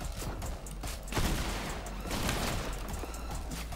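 Gunfire rings out in a shooter video game during a double-barrel-shotgun-only match, with several sharp shots and a few louder bursts over a busy background of game noise.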